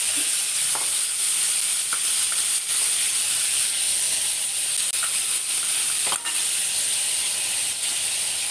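Chopped onions frying in a pan for a jackfruit dish, a steady close hiss of sizzling oil with occasional soft stirring clicks and scrapes, no talk.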